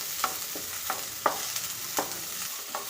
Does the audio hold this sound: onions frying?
yes